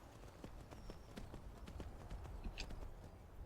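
A mount's hooves clip-clopping in Skyrim, quiet and regular with a steady rhythm of hoofbeats over low ambient noise.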